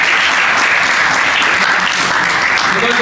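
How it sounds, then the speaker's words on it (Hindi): Loud, sustained applause from a large audience fills the hall at a college entrepreneurship event, steady and dense from start to finish with no voices above it. "एक बार नारी शक्ति के लिए बहुत जोरदार तालियां हैं"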